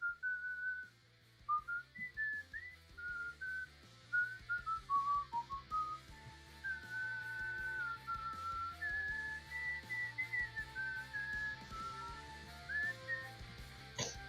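A person whistles a wandering melody alone, with sustained notes and quick slides, accompanied by a soft repeating low musical backing.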